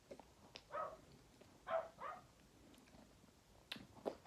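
A pet dog barks in the background, a few soft, distant yaps spaced across a few seconds in an otherwise quiet room.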